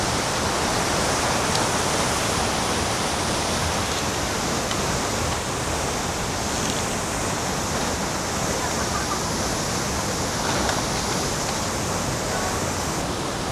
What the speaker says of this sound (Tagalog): ito ang first falls na napuntahan natin dito sa Camiguin